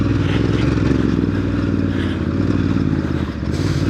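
Ducati DesertX adventure motorcycle ridden on dirt trails at Browns Camp, its engine droning steadily and loudly up close with constant rumble, mixed with clattering and scraping from the rough ground throughout.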